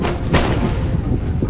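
Musket and cannon fire in an Empire: Total War battle in the Jamestown colony campaign: loud, close, booming gunshot bursts over a rumbling battlefield din.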